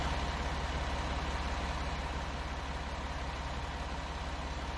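Tractor engine idling in the Farming Simulator 19 video game, a steady low rumbling drone held evenly throughout with no talk over it.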